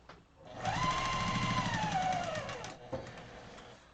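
A short run of a sewing machine quilting, revving up, holding a whirring stitch for about two seconds and winding down, nearby at moderate volume with no speech.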